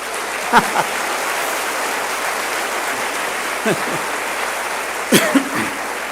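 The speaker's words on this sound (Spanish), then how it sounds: "los que respiran, denle un aplauso al Señor" A church congregation claps for the Lord during a sermon, a steady wash of dense applause running throughout, with a few brief voices and coughs popping out above it.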